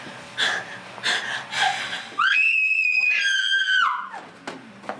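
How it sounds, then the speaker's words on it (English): A woman in a film scene lets out one loud, sustained high-pitched scream lasting almost two seconds. Short breathy gasps and murmurs come before it. "She's gonna scream."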